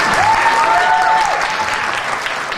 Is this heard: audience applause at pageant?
yes